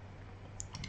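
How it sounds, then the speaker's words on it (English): Computer mouse clicked a few times in quick succession, faint, small clicks over a low background hum. "Let's click on this."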